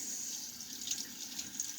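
Tap water runs steadily into a sink while a 3D printed injector-style razor is rinsed, a close hissing splash with slight fluctuations, no talking.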